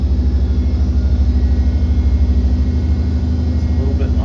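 A junkyard 8.1L V8 idles on an engine dyno, giving a loud, steady, deep rumble with an even throbbing pulse that runs unbroken throughout.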